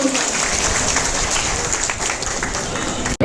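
A crowd applauds at a political speech in Dinanagar. Loud, dense, sustained clapping fills the whole stretch and cuts off abruptly at the end.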